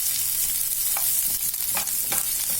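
Sliced onions, green chillies and curry leaves fry in a pan for egg semiya upma, giving a steady, bright sizzle. A few soft stirring scrapes cut through the close, continuous crackle.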